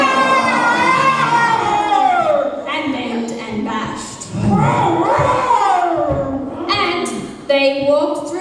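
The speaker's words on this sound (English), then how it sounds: "They yelled and howled." Wild bears in a Christmas story yell and howl through the scrub, voiced by people: a loud, continuous chorus of rising and falling cries and shouts lasting the whole stretch.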